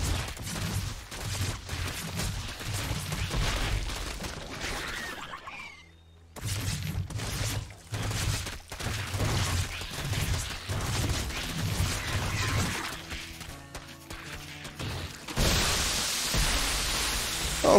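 Banelings detonate during a StarCraft II zerg-versus-zerg match at the 2021 DreamHack Masters Summer EU group stage, bursts of noisy crackling explosions layered over game action, with a brief lull before further blasts and a wash of noise at the end.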